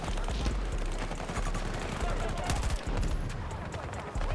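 Rapid sniper and rifle gunfire in a battle-royale style video game, a dense run of sharp cracks and bursts over a constant low rumble, with voices talking throughout.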